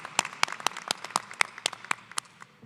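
Scattered, distinct handclaps from a sparse audience at an engineering and computing college commencement ceremony, about a dozen crisp claps in an uneven rhythm with no talking.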